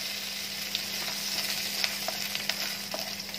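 Cumin seeds sizzle in hot oil, a dense, even hiss with scattered small pops and crackles throughout, close and steady, with a low constant hum beneath and no voices.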